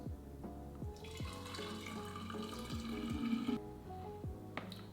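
Freshly made celery juice pours into a container, a steady liquid trickle and gurgle that rises slightly in pitch as it fills, with a few soft knocks and no talk.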